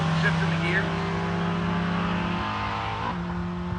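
Drag racing cars, a 1966 Ford Galaxie and a VW Beetle, roar down the strip with loud sustained engine noise and a drop in pitch as gears shift, while an announcer talks over the sound.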